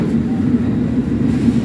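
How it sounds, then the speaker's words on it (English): A London Underground District Line train rolls along, a steady loud rumble with a faint rhythmic hum from inside the carriage. "This is a District Line train to Dagenham East."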